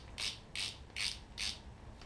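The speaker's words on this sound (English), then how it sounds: "Place everything back on, and lock washer and nut. Go ahead and torque everything back down." Ratchet wrench torquing down a lock washer and nut on a Vespa LX150 coilover, four evenly spaced bursts of clicking, close and fairly quiet, with no talk.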